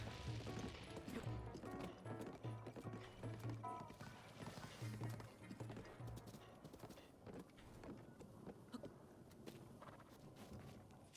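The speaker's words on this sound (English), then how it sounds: "here comes the horse" Horse hooves clip-clopping in a Zelda game at Hyrule Castle, a quiet continuous trotting rhythm mixed with soft clatter and background game sounds.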